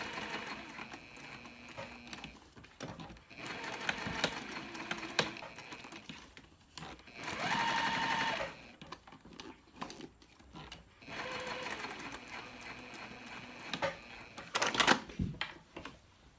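A sewing machine stitches a zipper pouch in several bursts of rapid, rattling stitching, separated by short pauses, close and steady with no talking.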